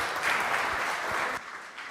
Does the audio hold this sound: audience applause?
yes